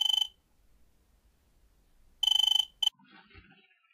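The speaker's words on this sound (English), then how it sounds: "My cell phone's going off!" Cell phone ringing, a bright electronic trill in short repeated bursts: one burst, a pause, then a longer burst and a brief clipped one, followed by faint muffled rustling.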